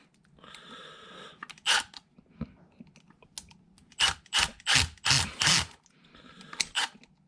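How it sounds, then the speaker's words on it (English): A screwdriver turning the cord clamp screw on a plastic plug makes faint grinding ratchety scrapes, followed by a run of sharp close clicks and scratchy bursts, with quiet gaps between. "And then we'll just tighten this clamp down. This will clamp the casing of the wire in."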